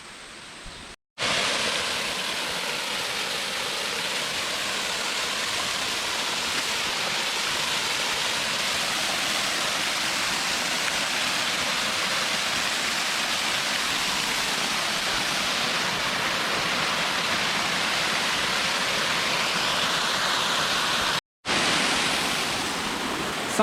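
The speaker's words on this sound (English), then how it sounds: "let's get to this waterfall" Steady broadband rush of a waterfall on the Apek Hill jungle trail, a continuous loud wash of falling water with no voices, briefly cut out near the start and again near the end.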